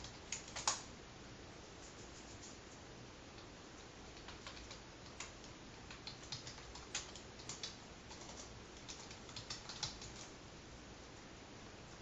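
Quiet, steady typing on a computer keyboard while code is written, with irregular soft key clicks and occasional louder taps spread through the stretch, no voices.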